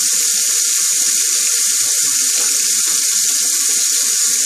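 Tap water runs steadily into a sink to rinse a razor, a loud, constant hissing stream heard up close with no speech.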